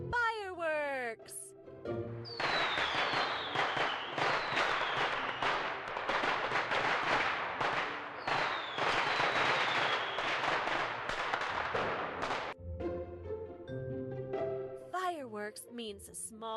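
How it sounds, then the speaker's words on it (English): Fireworks crackle and burst in a long dense volley, bracketed by a rising, whistling effect and a brief spoken word at the start and end. "Fireworks."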